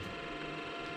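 Compressed air for a lathe's pulsed spray coolant system hisses steadily once switched on, a constant close mechanical whoosh with a faint rattle underneath and no talk.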